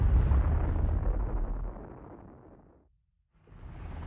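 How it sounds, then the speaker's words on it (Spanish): A hydrogen bomb detonation, comparable to ten million tons of TNT, roars as a dense, rumbling blast that swells loud at once, fades to near silence, then a second rumble rises again. "La potencia de la explosión es similar a la de 10 millones de toneladas de TNT."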